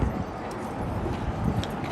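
Clydesdale horses at a show and parade in Salado, Texas, their hooves clip-clopping steadily on pavement amid a busy outdoor crowd murmur, fairly close and moderately loud.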